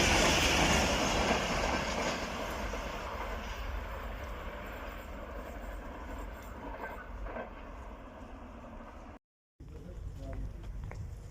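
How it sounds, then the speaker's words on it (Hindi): Rehman Baba Express passenger train from Karachi Cantt to Peshawar Cantt rolls past Dhabeji railway station, a loud broad rumble and roar fading gradually as it passes, with a brief dropout near the end. "HGMU 30 8207 47 up Rahman Baba express Karachi cantt to Peshawar cantt."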